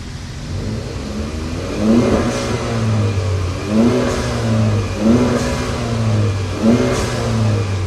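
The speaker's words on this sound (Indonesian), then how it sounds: "Sekarang yang PR kita kan belum dengerin suaranya si FK2R." FK2R motorcycle engine in a small-town garage, blipped repeatedly in close, loud rhythmic revs roughly every second and a half over a steady idle.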